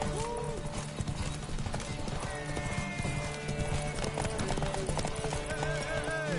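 Horse hooves clip-clop at a steady gallop in The Witcher 3, close and continuous, with the horse whinnying and game music and voices layered over the hoofbeats.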